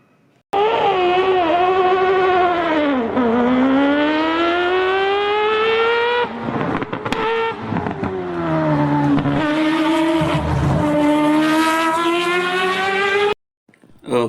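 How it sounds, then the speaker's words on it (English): A Mazda 787B race car with a rotary engine screams past at high revs, its piercing tone climbing and dropping through gear changes and speed shifts, loud and close for about thirteen seconds before cutting off abruptly. "that is the beautiful noise of the rotary engine of the Mazda 787B"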